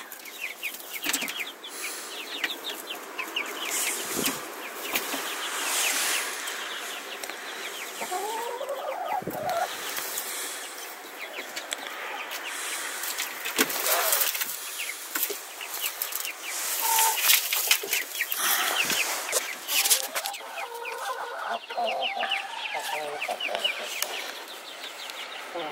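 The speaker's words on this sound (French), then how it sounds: "Il est un coq." Chickens clucking with a rooster among them in a French-speaking barnyard coop, steady cackling and squawks throughout, with occasional wing flaps and sharper calls standing out near and moderately loud.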